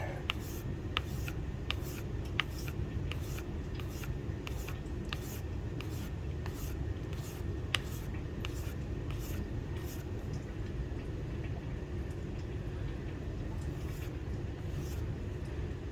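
A 1-inch belt sander sharpens a steel broadhead held in a jig, giving a quiet, steady low hum with regular light ticks repeating throughout, no voices.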